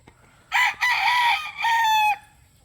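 A young gamecock stag crows inside a travel box, one loud, close cock-a-doodle-doo in two bursts with a short break, standing alone against quiet room noise.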